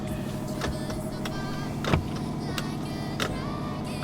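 The power window of a 2005 Subaru WRX is lowered with a steady electric motor whine inside the car, close and continuous, with a couple of faint clicks and thumps.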